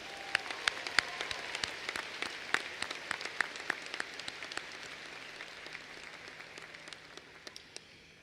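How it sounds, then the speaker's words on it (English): Applause rings out at a Central High School class of 2022 graduation, sharp scattered claps from a modest crowd heard at a distance, thinning gradually toward the end. "How about one last round of applause for Miriam and Aisha?"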